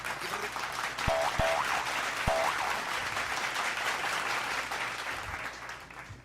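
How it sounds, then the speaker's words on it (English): A crowd applauding, a steady wash of many hands clapping that holds throughout, with a few faint tonal beeps early on. "Applause for that."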